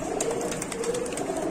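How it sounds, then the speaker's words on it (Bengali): A restless satin pigeon handled in someone's hands gives soft, low cooing and a faint flutter of rustling, close and quiet, with no talk. "খুব ছটপটা কবুতর।"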